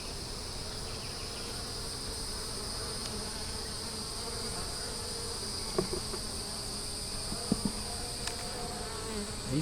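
Honey bees hum steadily around an open hive during an inspection, a constant insect drone throughout with a few soft knocks and handling clicks near the end.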